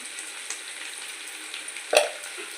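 Chicken for restaurant-style biryani fries in a pan with a soft, steady sizzle and light crackle, with a brief clatter near the end as the food is stirred.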